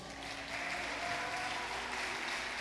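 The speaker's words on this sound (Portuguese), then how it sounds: "Você pode dar uma salva de palmas para o Senhor?" Church congregation applauding after a pastor's call to praise the Lord, a steady wash of clapping that swells in after a brief quiet start and holds evenly, with a faint tonal hum beneath.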